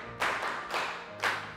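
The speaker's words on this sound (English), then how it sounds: "Clap for her." Three short bursts of hand clapping, brief and close, with quiet pauses between them.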